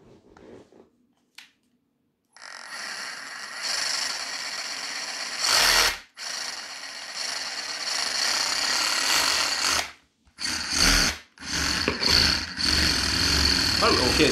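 A Bosch cordless drill spins a cleaning attachment in loud whirring bursts with a rattling buzz. It starts, stops and starts again several times, close by, and a voice talks among the runs.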